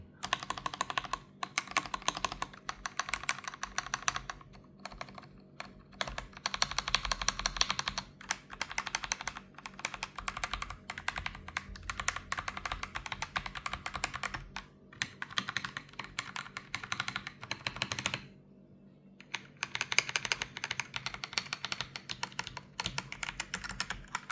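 AJAZZ AK992 mechanical keyboard keys clack in rapid, continuous bursts, close and crisp, with a brief pause before the typing resumes.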